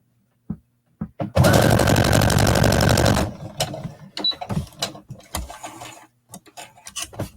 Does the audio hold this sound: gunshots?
no